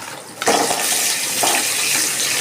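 Hilsa fish heads drop into hot mustard oil, which bursts into a sudden loud hiss that settles into a steady, close sizzle.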